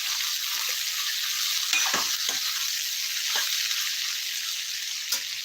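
Onions and vegetables fry in oil over a full flame, a steady close hiss of sizzling throughout with a few soft stirring scrapes and no talk.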